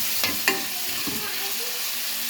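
Onions softening in a pan with a steady, even sizzle, a couple of sharp clinks of a spoon near the start, then the hiss continuing alone before cutting off abruptly.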